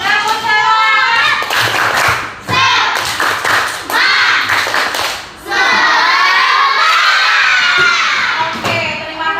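Schoolchildren in a classroom doing a rhythmic spirit clap, bursts of patterned clapping mixed with loud shouted chanting, near and energetic, pausing briefly before a long final shouted cheer.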